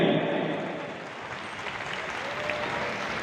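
Steady applause from a gathered crowd at a Chhattisgarhi app launch event, a dense continuous clatter of hands that holds fairly even throughout.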